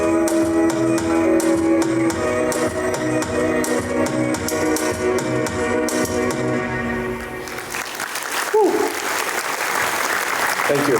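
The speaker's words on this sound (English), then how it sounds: "Let's give them a huge round of applause, please." Applause at a construction company's 70th anniversary celebration dinner breaks out near the end, after music with speech over it, a dense burst of clapping from the audience for the performers.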